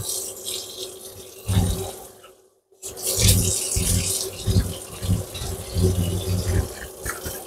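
Tap water runs steadily into a sink while chili peppers are washed under it, a loud close gush that briefly cuts out and then resumes, with no talk.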